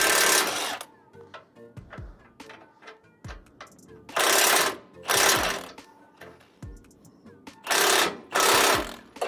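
A bolt being reinstalled on a 2004-2008 Ford F-150 control arm, with loud bursts of a rapid impact or power tool separated by clinks and handling noises, each burst about a second long, close by.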